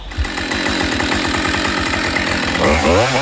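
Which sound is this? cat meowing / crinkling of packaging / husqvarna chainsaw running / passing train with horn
husqvarna chainsaw running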